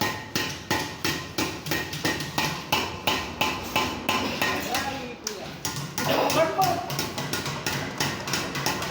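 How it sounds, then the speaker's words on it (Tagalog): Steady, evenly spaced hammer blows chip an old tile loose, sharp knocks repeating close by throughout, with voices talking in the background. "Ginagahasan niya yung tile paano matanggal."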